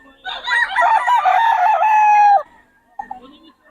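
A rooster crows loudly and close, one long drawn-out call, followed by a few soft clucks.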